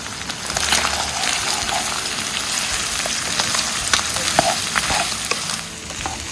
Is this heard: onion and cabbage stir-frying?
yes